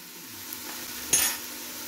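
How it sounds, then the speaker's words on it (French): A spoon stirring a spiced chorba mixture seasoned with salt, paprika and pepper in a pot, with a faint sizzle underneath and one brief scrape near the middle, quiet and close. "on mélange bien pour que toute cette préparation s'infuse de tous ces bons épices"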